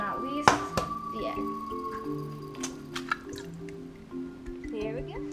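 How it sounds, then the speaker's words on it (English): Oil and then water are poured into brownie mix in a bowl, giving soft close-up drips and squishy liquid sounds, while people talk over the pouring and a steady hum runs underneath. "Here goes the oil. And with the water."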